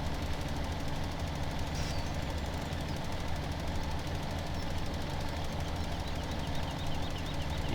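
Tractor engine in the video game Farm Simulator 17, driving across an uneven field: a steady, low, rumbling drone with a knocking texture, continuous and moderately loud throughout with no talk.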